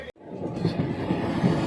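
The Solapur Express rolls along on its run from Rajahmundry toward Tirupati with a steady, low rumble of wheels and carriage noise heard from inside the train, continuous and moderately loud.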